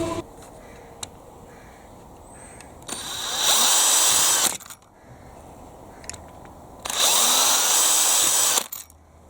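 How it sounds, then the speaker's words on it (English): A power drill whirs through two short bursts of several seconds each, drilling holes in a Bruder Land Rover Defender RC model, with quiet handling clicks between them. "drilling a couple of holes"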